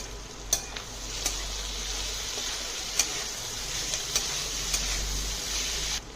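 Chicken Maggi vegetables with half a spoon of sugar are stirred in a pan, a steady low sizzle running underneath with occasional sharp clicks of the spoon against the metal.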